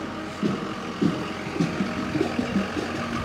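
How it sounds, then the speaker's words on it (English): A truck reversing and turning on an open field, with a loud, close engine rumble and a series of regular pulsing tones that suit reversing beeps. "you gotta get out of the way of that truck, Micah"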